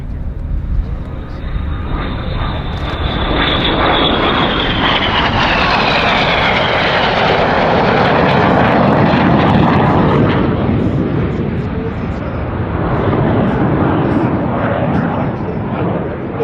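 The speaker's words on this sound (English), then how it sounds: "Red One gathers the 7 aircraft together, about to rank them to the left" Several RAF Red Arrows jets roar overhead in formation at the Oregon International Airshow, a loud sustained engine rush that swells and sweeps past with a Doppler whine, with a voice speaking faintly beneath.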